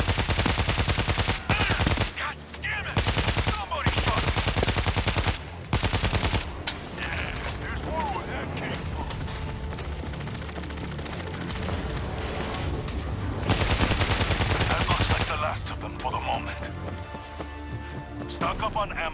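Rapid gunfire in the zombie shooter World War Z Aftermath, dense automatic bursts broken by brief pauses, loud and close over game sounds, with voices calling out in places.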